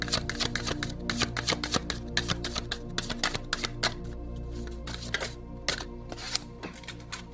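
Tarot cards being shuffled for a card reading, a fast close series of crisp riffling flicks and snaps over a steady low background drone.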